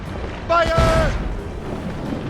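A deep cannon boom from a warship's broadside in the naval battle game Assassin's Creed Rogue, one loud rumbling blast near the middle, with a shouting voice overlapping it and low battle noise continuing after.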